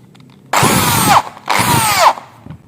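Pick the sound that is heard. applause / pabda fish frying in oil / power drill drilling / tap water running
power drill drilling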